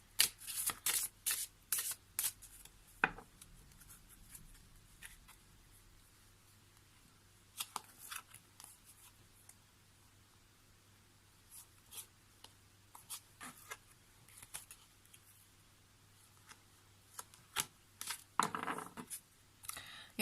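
Tarot cards are shuffled and drawn in a quiet room: dense bursts of riffling and slapping at the start, then scattered soft flicks, slides and taps of individual cards being laid down, close and fairly faint.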